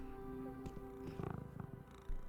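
A cat in a video game purrs with a steady, rhythmic rumble and gives short meow-like calls, close and fairly quiet, with a soft thump near the end.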